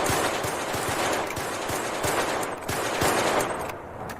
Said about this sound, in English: reports of gunfire